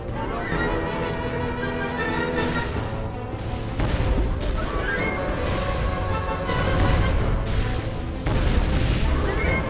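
Fire attack in the action game Majin and the Forsaken Kingdom during a boss fight against Tlaloc aboard a ship, heavy booming blasts and crashes over dense game music, continuous and loud throughout.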